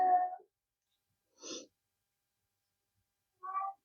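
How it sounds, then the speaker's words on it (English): A pet cat, anxious while switching medications, gives a few short, quiet meows and breathy sounds in a hushed room, separated by long silences. "Hopefully you can't hear my cat."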